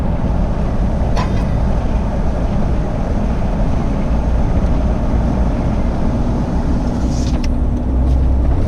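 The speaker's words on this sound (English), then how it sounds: "We're driving around towards Stuart Harbour at Airlie Beach." A car drives along a coastal road near Airlie Beach, its interior filled with a steady, loud low rumble of engine and tyre noise, with a couple of faint clicks.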